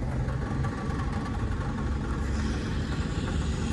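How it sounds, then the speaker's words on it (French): A car engine idles at a standstill, a steady, close, low rumble that holds even and unbroken throughout with no voices. "Écoutez ma voiture, ok?"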